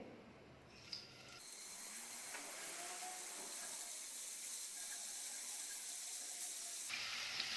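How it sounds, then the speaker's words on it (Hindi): Paneer dropped into hot oil over a medium gas flame starts a loud, steady hiss of sizzling that runs unbroken for several seconds and then stops sharply near the end, with no voices. "ऑयल गर्म हो चुका है, गैस को हमने मीडियम फ्लेम पे रखा है। अब पनीर को फ्राई कर लेंगे।"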